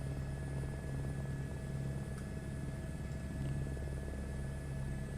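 A steady, loud engine whine and rotor drone from an H125 helicopter idling on a helicopter apron in Microsoft Flight Simulator, continuous and unbroken throughout with no talk.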